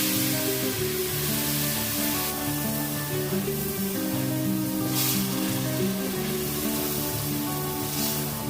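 Hot milk poured a little at a time into roasted semolina for sooji halwa, a steady loud sizzle with bubbling that carries on throughout, close by and with no talking.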